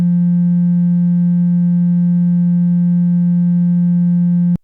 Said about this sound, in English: this is the Neutron sine wave